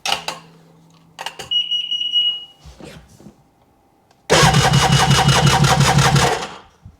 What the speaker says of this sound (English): I'll do a quick crank over and see.